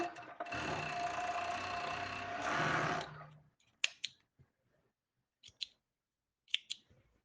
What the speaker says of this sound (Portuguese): E agora eu vou costurar a parte da renda, tá?